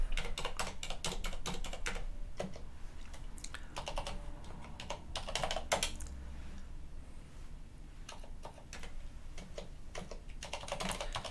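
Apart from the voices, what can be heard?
typing on a computer keyboard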